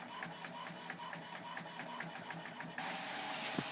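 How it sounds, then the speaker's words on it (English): A wireless home printer runs a print job, giving a steady mechanical whir with regular clicking pulses, then a louder feed shift near the end, close and alone with no talk. "it will print out over here on my wireless printer"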